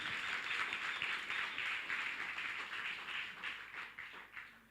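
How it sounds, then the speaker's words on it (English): An audience at a luncheon event applauds, a sustained wash of many hands clapping at moderate distance that gradually thins out toward the end. "Can we give them another round of applause"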